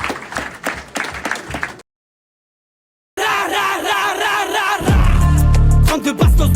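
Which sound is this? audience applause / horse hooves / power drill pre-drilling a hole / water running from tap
audience applause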